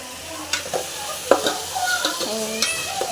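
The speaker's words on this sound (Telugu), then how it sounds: "ఇప్పుడు ఇది కొంచెం బాగా వేగాలి ఫ్రెండ్స్" Sambar ingredients sizzle and fry in a pan while a spoon stirs them, with scraping strokes and small clinks over a steady close-up sizzle.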